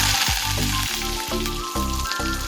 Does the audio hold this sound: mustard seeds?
yes